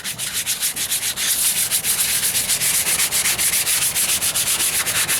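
Car body filler on the driver's side wheel arch of a 1998 Ford Ranger is block sanded with 150-grit sandpaper: loud, close, rhythmic back-and-forth rasping strokes, steady and quickening, with no speech.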